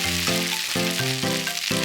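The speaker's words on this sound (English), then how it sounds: "Add the carrot and cabbage and stir-fry until softened." Pork, carrot, cabbage and udon stir-fry in a frying pan for yaki udon, a steady sizzle overlaid by a run of tonal, stepped clanks and scrapes from the utensil against the pan.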